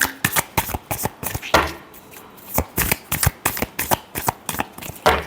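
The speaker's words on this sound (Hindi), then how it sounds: "Last shuffle." A deck of tarot cards is shuffled by hand in quick repeated riffles and snaps, close and crisp, with short pauses between bursts.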